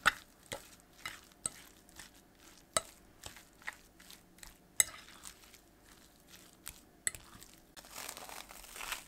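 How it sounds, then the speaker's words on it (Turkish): Mashed potato with a spoonful of oil being stirred in a bowl, repeated sharp utensil clicks and soft squelching strokes in an irregular rhythm, close and fairly quiet. "Daha sonra iyice bir karıştırıyorum."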